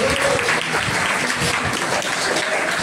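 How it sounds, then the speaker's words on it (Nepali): Sustained audience applause fills the space at a talk on student success and positive thinking, a dense, steady wash of clapping from many hands that holds level throughout with no gaps. "अब ताली बजाउनुहोस् न हजुर"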